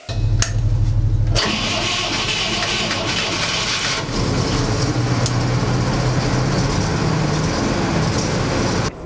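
A restored BTR armoured personnel carrier's engine cranks and fires up inside a locomotive repair plant workshop in Ivano-Frankivsk, a loud, close, rough roar settling into a steady running rumble.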